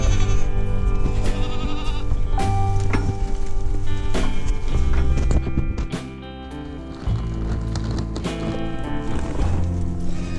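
Goats on a farm bleat repeatedly and loudly up close, overlapping calls one after another, with hoof clatter and farmyard shuffling underneath.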